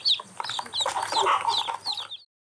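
Newly hatched chicks being given water with chili pepper peep high and repeatedly, close by and fairly loud. The chirps run continuously over a faint low hum, and no one speaks.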